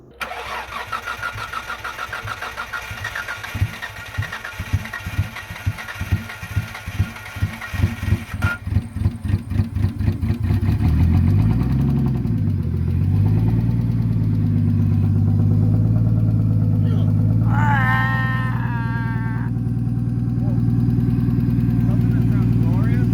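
A Nissan Skyline R33 engine after a transplant cranks in a rapid rhythmic churn for about ten seconds, then catches and settles into a loud, steady idle up close, with a brief voice heard over it.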